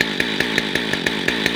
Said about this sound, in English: Why is my chainsaw stuck like that?